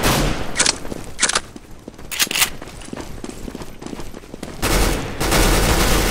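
A new shotgun fired in Counter-Strike GO during an Arms Race match: several loud, booming blasts spaced roughly a second apart, with gunfire and movement noise between them and a dense burst of shooting near the end.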